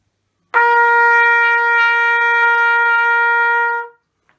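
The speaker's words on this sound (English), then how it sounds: "when we do the same buzzing into our trumpet, the sound it makes is quite different" A single sustained brassy tone from lips buzzing into a trumpet starts abruptly, holds steady and clear for about three seconds, then stops. No talking.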